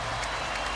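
Dense applause from a home crowd of more than 19,000 at a 2004 Dallas Mavericks playoff basketball game against the Kings, a steady wash of clapping and cheering throughout.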